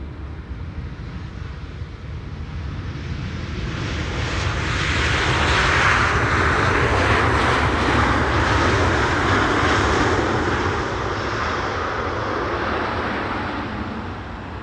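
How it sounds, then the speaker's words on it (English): A Boeing 777-300 landing at Schiphol after a long-haul flight from Johannesburg, holding its nose up for aerodynamic braking: a broad jet roar that swells to a loud peak mid-clip and then eases slightly, with no voices. "777 300 arriving from Johannesburg, South Africa. Touching down after 10 hours and 33 minutes. Doing some aerodynamic braking."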